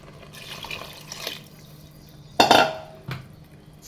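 Water is poured into vegetable pulao in a pan with a short, close splash, surrounded by clinks and scrapes of a utensil against the cookware and no talk.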